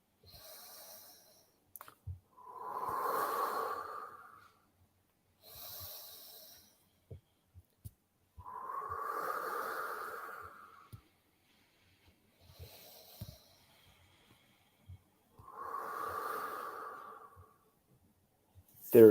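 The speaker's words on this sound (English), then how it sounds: "And slowly, while doing that diaphragmatic breathing, that deep breathing," Slow, deep diaphragmatic breathing during a relaxation exercise, heard as three long, soft inhale-exhale cycles spaced several seconds apart. The breaths are close and airy, with quiet pauses between them and no speech.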